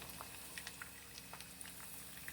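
Hot grease poured over eggs frying in a pan bubbles and sizzles faintly and steadily, with small pops scattered through the hiss.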